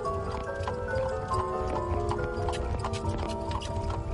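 Horse hooves clip-clopping on a road, a steady rhythmic series of hoof knocks over low rumbling background, moderately loud and without talk.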